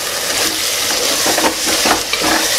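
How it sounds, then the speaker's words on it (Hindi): Curd mixed into vegetables cooking for a vegetable biryani in a pressure cooker: a loud, dense hiss and sizzle with wet churning and stirring noises throughout, no talking. "तब हम इसमें ये दही डाल देंगे और इसे भी अच्छे से मिक्स करेंगे"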